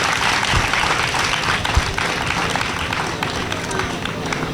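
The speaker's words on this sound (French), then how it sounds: "Vous pouvez applaudir tout ça." A crowd applauds at an official community ceremony launching a fabric, with continuous clapping and crowd noise close and fairly loud, and voices mixed in.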